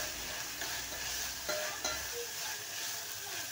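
Turmeric and salt sauté in hot oil for a spicy misal, a steady close sizzling hiss with a few soft clicks of a spoon stirring, no voices.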